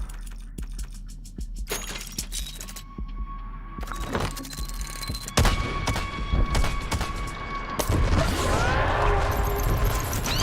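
An improved autocannon firing in the Dome Keeper video game, loud repeated shots in uneven bursts over a low hum, growing denser and busier toward the end with whooshing game effects.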